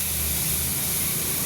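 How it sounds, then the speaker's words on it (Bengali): Spices and food fry in a hot pan with a steady, close, loud sizzling hiss throughout a short moment, no voices. "এবার একটু ভেজে নেবো।"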